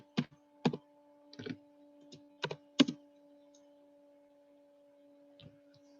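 Someone types on a computer keyboard, a handful of sparse, close key clicks in short clusters over a faint steady electronic hum.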